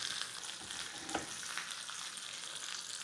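Mustard seeds and a green chili sizzle and crackle in hot oil, a tempering for kosambari salad; a steady, close frying hiss with small pops runs throughout, with no talking.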